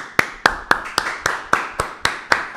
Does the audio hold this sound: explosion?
no